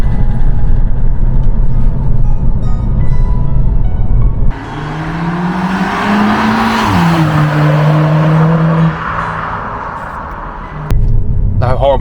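A remapped 170,000-mile Volkswagen Golf GTI engine roars as it accelerates hard, revs rising in a sustained surge with a boost spike before easing back to a steady drone.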